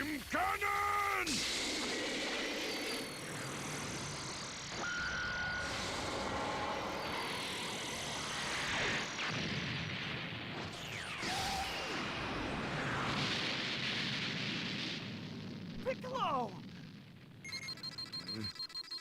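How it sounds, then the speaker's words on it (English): Special Beam Cannon attack in Dragon Ball Xenoverse 2, a dense barrage of whooshing energy blasts, swishes and explosive bursts layered with game music, loud and busy from start to finish. "Special beam cannon!"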